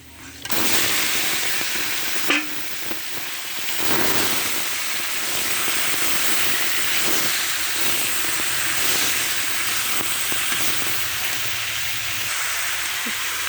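Marinated desi chicken tipped into hot fried spices, a loud sudden sizzle that settles into a steady close hiss of frying, with no talking.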